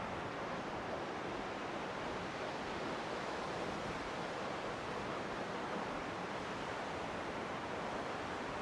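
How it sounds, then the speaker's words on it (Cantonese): The Kairei waterfall in Tibet, running with low winter water flow, gives a steady, even rush of broadband noise that holds unchanged throughout, heard from a short distance with no voices. "開熱瀑布，睇下先啊，水又唔多㗎啦"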